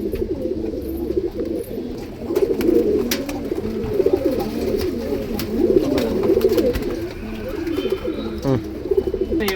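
A female Dhuma pilaka breeding pigeon coos in repeated, rolling low phrases close by, with faint clicks and rustles in the background.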